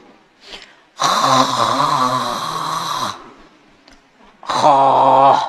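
A voice imitates two long, loud, drawn-out yawns, the first stretching about two seconds and the second shorter, with quiet breaths between.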